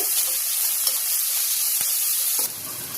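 Onions and green chillies sizzle and fry in hot oil, a steady bright hiss filling the pan, dropping slightly in intensity near the end.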